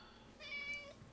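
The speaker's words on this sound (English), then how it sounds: "Meow for the camera." A house cat gives one short, clear meow in a quiet room, moderately close and fairly soft.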